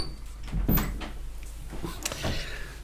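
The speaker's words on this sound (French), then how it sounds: "Je vais être obligé de fermer la porte" A door is shut indoors to keep out a barking dog, a close, solid thump with rattling and handling noises around it, followed by a few softer knocks.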